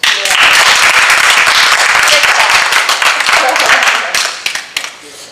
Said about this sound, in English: you need an applause